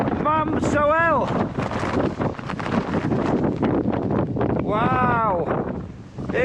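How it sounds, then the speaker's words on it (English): Strong wind buffets the microphone on the summit of Mam Sodhail, a Scottish Munro, as a loud continuous roar with gusts, while a person speaks over it. "Wow, it is so windy."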